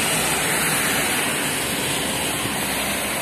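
A constant, dense wash of rain in Cheboksary, loud and even, with no breaks and no voices.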